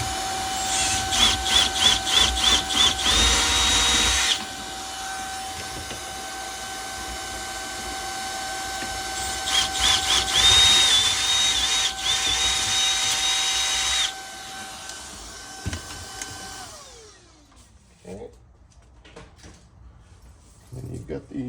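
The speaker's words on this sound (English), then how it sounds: "I'm going to turn on the vacuum here." A vacuum runs steadily while a drill bores out holes with a 1/4 inch bit during a center console kit install, the drill bursting loudly in two long runs before everything winds down to quiet.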